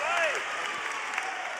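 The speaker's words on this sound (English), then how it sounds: "And the first real claps we've heard of this Xfinity Center crowd," A crowd claps at a Big Ten college wrestling match in the Xfinity Center, a brief scattered spatter of applause with crowd noise, heard partly under commentary.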